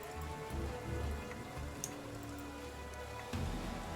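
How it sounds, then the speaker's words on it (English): Rain falls in the fantasy role-playing game Pathfinder: Kingmaker as a steady, soft hiss of drops with a low rumbling bed and a few brief taps, alone without voices. "Of course it's rain. I hate rain in this game."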